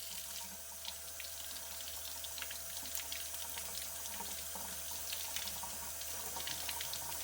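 Hot water runs steadily from a tap into a sink, a continuous close hiss and splash with no talk.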